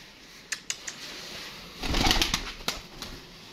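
Pigeons kept as pairs in a hobby loft, with wing flaps and a few sharp clicks and rustles, rising to a louder burst of flapping near the middle, fairly close by with no talk.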